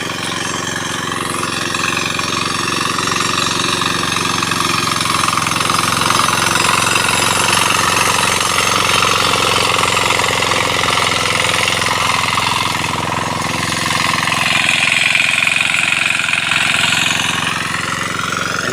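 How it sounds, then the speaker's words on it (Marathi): Tractor engine churning mud to puddle a rice paddy: a loud, steady mechanical drone that holds unbroken for the whole stretch, with no voices. "तर हे बघा ट्रॅक्टरानं असं चिखल केलं जाता"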